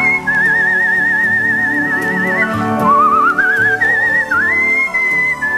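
A competitive whistler holds a pure, wavering tone with wide vibrato and slow sliding pitch, recalling a musical saw. The whistling is loud and close, sustained for several seconds with brief dips between phrases.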